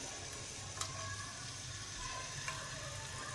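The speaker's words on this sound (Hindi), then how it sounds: "अभी तेल गर्म हो चुका है, इसमें हम ये" Chopped garlic and cumin hitting hot oil give a steady, bright sizzle that stays even throughout, with a few faint clicks and no one talking.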